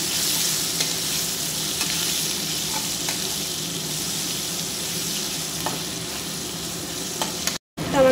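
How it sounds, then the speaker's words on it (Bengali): Chopped onions fry in a pan while they are stirred, giving a steady, close sizzle with scraping spatula strokes throughout and a short dropout near the end. "পেঁয়াজটা ভালো লাল লাল করে ভেজে নিচ্ছি আমি"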